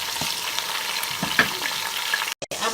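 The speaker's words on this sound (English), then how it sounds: "Just put the onion first. And just wait for the onion to cook for a bit." Onion frying in a pan as the start of a Ghanaian corned beef stew, a steady close sizzle and crackle throughout with a few soft stirring knocks and a brief break near the end.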